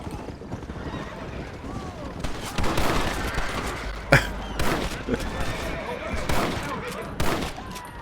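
Gunshots ring out while shooting bandits in Red Dead Redemption, a few sharp reports scattered among horse neighs and hoof clip-clops, with a voice talking in the background.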